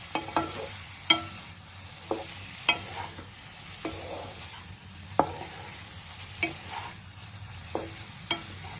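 Coriander being stirred into veg manchurian frying in a pan, with a low sizzle under sharp, spaced clinks and scrapes of the spoon against the pan.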